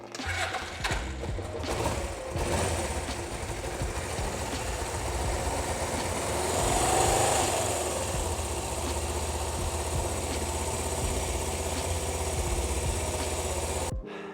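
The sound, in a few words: Suzuki GSX 400 E 1983 motorcycle engine started and idling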